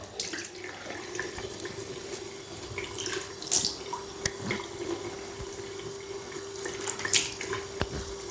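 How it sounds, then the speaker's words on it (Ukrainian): A bathroom tap runs steadily as someone rinses their face after a razor shave. Faint splashes and drips rise over the constant flow, with no speech. "Зараз змиваюсь"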